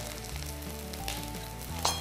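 Vegetables fry in oil in a pan with a steady close sizzle, faint scraping stirs and a light clink near the end, under a low background hum.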